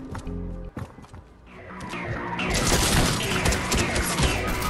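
Enemy gunfire in the Fortnite video game, a dense clatter of shots and impacts that builds from scattered bursts into a sustained loud barrage, with some crashing and mechanical noise mixed in.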